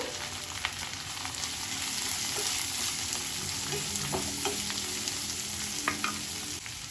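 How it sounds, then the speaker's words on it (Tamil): Onions and curry leaves sauté in a pan, with a loud, continuous sizzle and light stirring scrapes and taps throughout. "நல்லா கோல்டன் கலரில் வெங்காயம் நல்லா வதங்கட்டும்"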